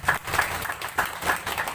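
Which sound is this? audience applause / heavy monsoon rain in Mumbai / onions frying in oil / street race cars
audience applause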